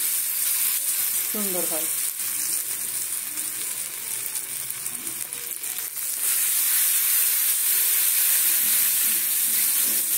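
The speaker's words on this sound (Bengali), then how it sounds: "তেলটাকে আগে গরম করে নিয়ে তারপর আমি কমিয়ে দেবো, কমিয়ে দিয়ে এবারে এই যে ডোবাবো।" Battered bread pakora fries in hot oil with curry leaves added, giving a loud, continuous sizzle and hiss close up, with a brief spoken remark partway through.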